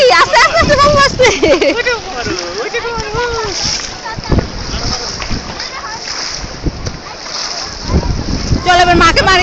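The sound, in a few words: splashing sea water at a beach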